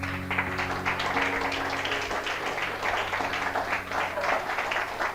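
Church congregation applauding together, a dense, steady wash of many hands clapping at close range over a low sustained organ or keyboard note, with no gaps across the whole stretch.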